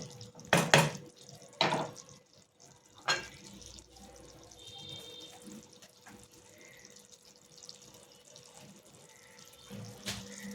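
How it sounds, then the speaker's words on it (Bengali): Water splashes in short bursts while a milk bowl is rinsed in a home kitchen during cooking, quiet and close, with long pauses between the splashes. "একটু জল দেব, বাটিটা ধুয়ে, দুধের বাটিটা ধুয়ে।"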